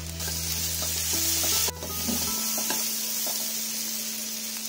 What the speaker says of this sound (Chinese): 接着放入少量红油豆瓣酱，少量蚝油翻炒